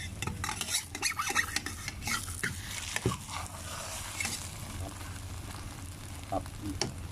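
A utensil stirs and scrapes through eggs frying in a pan with plenty of oil, with a constant sizzle beneath the busy clatter.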